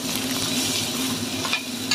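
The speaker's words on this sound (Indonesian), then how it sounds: "Ini saya masak tumis wortel buncis dan saya campurkan bakso." Carrots, green beans and meatballs stir-frying in a pan, steady close sizzling with occasional scrapes of a spatula, no talking.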